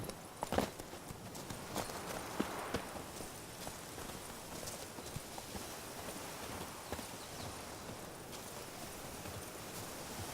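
Roach, Geralt's horse in The Witcher 3: Blood and Wine, gallops with a quick, steady clip-clop of hooves, fairly quiet and continuous, with no talking.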